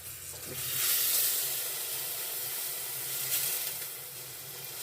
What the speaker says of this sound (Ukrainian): Тепер додаємо сюди кип'ячину воду.